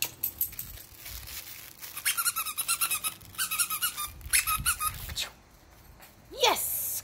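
Bursts of repeated squeaking from a squeaky toy come in quick clusters over several seconds, close and bright, amid light patter from small dogs, with a short whine near the end.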